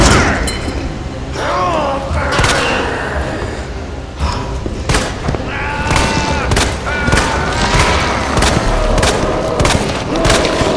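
Gunfire in Resident Evil 2 Remake sounds as a zombie is shot: heavy booming shots and thuds come in rapid clusters over loud game sound. Excited voices talk over it.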